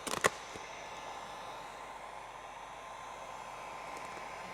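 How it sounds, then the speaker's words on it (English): A heat gun blows a steady, even rush of hot air onto vinyl wrap film on a mirror, continuous broadband hiss after a few brief clicks at the start, moderately loud and close. "Just come in with our heat gun."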